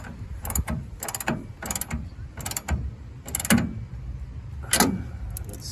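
Metal bolts being screwed down on truck bed rack tonneau adapter brackets, a series of about six sharp ratcheting bursts with short pauses between, close and clear over a quiet background.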